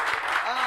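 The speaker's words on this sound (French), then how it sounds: "il faut encore applaudir pour ce grand frère" Studio audience on a television talk show applauding, a short burst of clapping with a voice audible alongside it.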